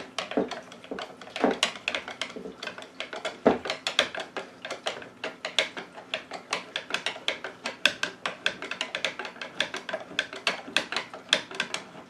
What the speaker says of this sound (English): Open up the oiler hole in the back of the buttstock, and I'll be able to turn this screw out.